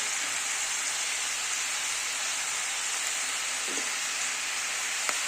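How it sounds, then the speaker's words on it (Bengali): Cauliflower stems frying in a pan with salt and turmeric for a Bengali chorchori, giving a steady, continuous sizzle and crackle throughout with a faint clink near the end. "ভালো করে সবজিটাকে একটু ভাজা ভাজা করে নিতে হবে"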